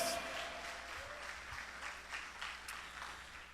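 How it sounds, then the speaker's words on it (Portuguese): Congregation clapping at a church service fills the space with a steady, moderately quiet wash of applause, sustained throughout without any voices. "Receba nossas palmas, Rei dos Reis, Senhor dos Senhores"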